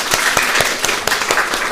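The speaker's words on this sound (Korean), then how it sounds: "두 친구 박수로 환영합시다" A church congregation claps to welcome two young newcomers at a Sunday service, a brief burst of dense, loud applause with sharp individual claps standing out close by.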